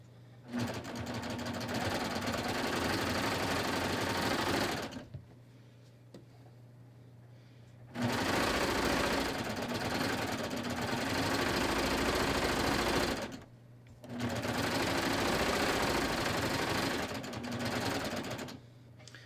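A sewing machine stitches a pocket onto the shorts under a skort in three loud, steady bursts of rapid whirring needle runs, separated by brief quiet pauses.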